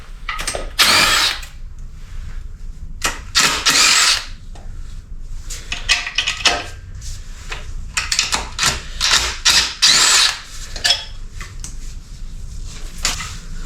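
A power tool works on a failed Toyota engine's coolant tubes, firing in repeated short bursts of whirring and ratcheting, loud and close, broken by pauses and light clanks of metal parts.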